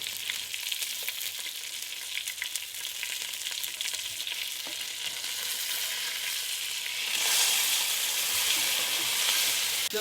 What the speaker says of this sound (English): Now heat oil in a pan. Once hot, add your fish head